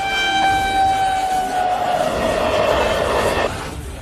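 The Narayanadri Superfast Express, Lingampalli to Tirupati, runs on track at night, giving a loud sustained horn that fades into a rushing, rumbling roar of wheels and carriages before dropping off at the end.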